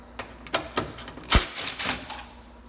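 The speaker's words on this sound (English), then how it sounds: "get a 10mm socket and remove this bolt on the side" A 10mm socket works a side bolt loose on a Honda Odyssey headlight, giving a quick run of sharp, uneven ratchet clicks, close and crisp, with no talking.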